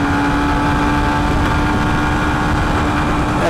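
A Honda SP 125 motorcycle engine, 125 cc, pulls in third gear with a steady, loud drone that holds a constant pitch throughout and carries no speech.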